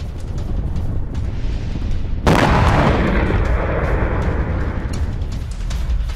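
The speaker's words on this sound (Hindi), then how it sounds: "IDF की बमबारी में हिजबुल्लाह का एमिनेशन डिपो खाक।" Distant explosions from bombardment of an ammunition depot in southern Lebanon, with a sudden loud blast that swells into a long rumbling roar over steady background noise.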